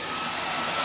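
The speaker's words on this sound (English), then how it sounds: "I'm gonna kind of hit it with a dryer for a few minutes." A hair dryer blowing on painted wood to dry it, a steady loud whooshing whine, unbroken and close.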